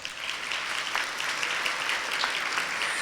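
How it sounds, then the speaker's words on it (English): A room of guests at a scholarship reception applauds their board chair as she stands, an even, moderately distant patter of clapping that stays constant throughout. "if you would stand up, and a round of applause"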